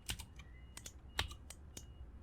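Computer keyboard typing, a few quiet, sparse key clicks spread over about two seconds, close and alone in an otherwise quiet room.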